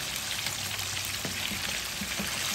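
Chicken deep-frying in hot oil gives a soft, steady sizzle and crackle, with a few faint pops and ticks scattered through it, heard close and alone with no talking.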